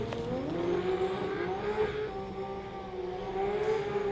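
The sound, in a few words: drag racing car skidding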